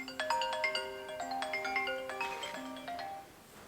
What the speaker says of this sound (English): Excuse me, phone's ringing.